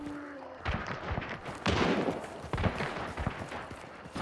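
Gunfire in the video game Hunt: Showdown, several sharp shots and thumps of varying distance crackle over a noisy game soundscape with no clear talk.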